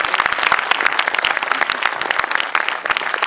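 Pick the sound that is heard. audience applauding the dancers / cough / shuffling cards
audience applauding the dancers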